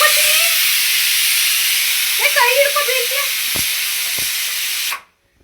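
A pressure cooker on a home kitchen stove vents steam in a loud, steady hiss for about five seconds, with faint voices briefly underneath, before the sound cuts off abruptly.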